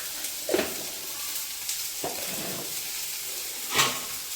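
Tomatoes sauté in a pan for a Pongal dish, giving a steady soft sizzle with a few scraping stirs of a spoon breaking through the hiss; no one speaks.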